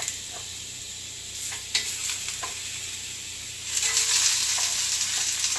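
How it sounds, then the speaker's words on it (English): Continuous sizzle of bananas frying in a pan with occasional clinks and scrapes of stirring, growing louder and brighter toward the end; no one speaks. "Listen to the sizzle."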